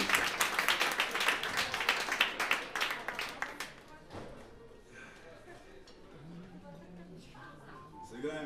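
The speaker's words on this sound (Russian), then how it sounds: "Аплодисменты." An audience at a jam session applauds bassist Roman Kharin, a dense burst of clapping that dies away after a few seconds into quieter room sounds and distant voices.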